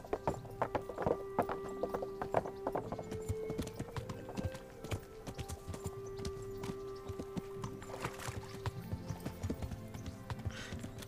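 Horse hooves while riding in the video game Kingdom Come: a steady, close clip-clop of hoofbeats running throughout over a faint tonal hum.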